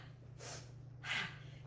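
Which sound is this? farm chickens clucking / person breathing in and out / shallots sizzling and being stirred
person breathing in and out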